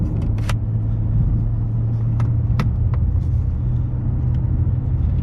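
A 2013 Chrysler 300 Touring sedan cruises with a constant low engine and road rumble, a faint tonal drone and a few light clicks inside the cabin.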